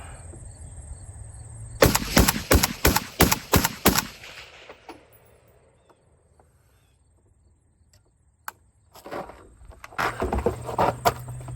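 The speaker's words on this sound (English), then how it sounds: "We're just gonna take some shots up close and get a feel for the kind of gas blowback that we're getting from this one." Rifle with an 18-inch barrel and Sandman S suppressor fires a fast string of about eight close, sharp shots, followed by quiet with one isolated crack, then another burst of shots near the end.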